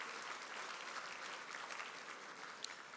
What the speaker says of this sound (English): A big round of applause to our silver sponsors.